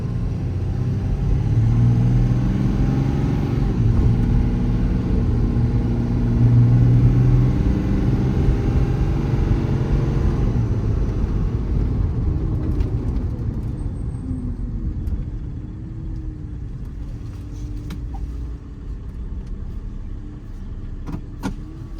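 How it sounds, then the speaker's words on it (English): A heavy Cummins diesel engine in a 2016 Ram 5500 service truck rumbles steadily up close, idling and shifting slightly in pitch as the truck slowly backs up, with faint clicks near the end. "Going to back up and park the truck."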